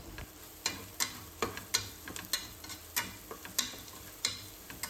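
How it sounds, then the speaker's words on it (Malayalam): A spoon scrapes and taps against a pressure cooker pan while prawn biryani mixture with salt is stirred, making regular sharp clicks about twice a second over a soft sizzle. "എല്ലാം കൂടി നല്ലപോലെ ഒന്ന് യോജിപ്പിച്ചെടുക്കാം"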